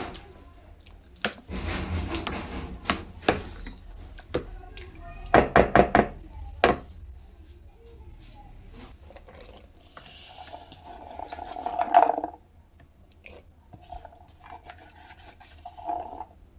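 A spoon mixes a dahi vada mixture with potatoes in a bowl, making scattered knocks, clinks and soft squishy stirring sounds in irregular bursts, fairly close and quiet.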